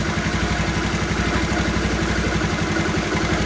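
A motorcycle engine running without a battery idles in a steady, even, rapid putter, close and unbroken, with light mechanical clatter and no talk.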